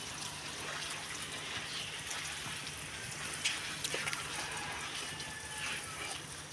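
Water splashes and patters steadily onto vegetable plants, including brinjal, in a small village plot watered with organic manure, a soft continuous trickle under occasional quiet talk.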